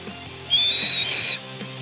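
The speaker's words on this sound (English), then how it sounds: "it's like, God, that sounds just like a real whistle" A person whistles one loud, sustained high note for nearly a second, slightly wavering in pitch, standing out clearly over a faint low background hum with no talking.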